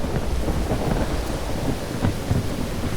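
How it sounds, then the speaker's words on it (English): Thunder rumbles low and continuous through a thunderstorm, with steady heavy rain hissing on surfaces and a few louder rolling swells, no voices present. "There is a wide variety of thunder sounds due to the varying size of the clouds"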